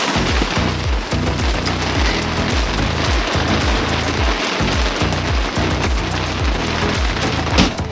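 Heavy rain drums steadily on a Humvee and its surroundings, a loud, dense patter with low thumping impacts running continuously throughout, with no talking.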